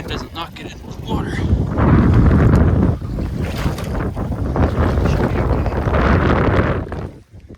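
Strong wind buffets the microphone on open water during a kayak duck hunt, a loud rushing roar that swells and eases, with a person talking over it.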